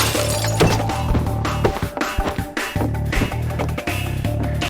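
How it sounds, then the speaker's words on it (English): A glass bottle shatters during an animated Team Fortress fight, with repeated sharp crashes and breaking glass over dense, loud game music and effects. "bottles don't really shatter like that anymore"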